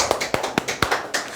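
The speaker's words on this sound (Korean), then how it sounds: "네, 박수." A short run of applause from one person: about six crisp hand claps in a steady, quick rhythm, close and fairly loud, with no voices.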